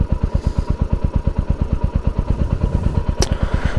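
Royal Enfield Hunter 350 single-cylinder motorcycle idling, its exhaust note a steady, loud, even thump-thump pulse close to the mic, with one brief metallic tick near the end.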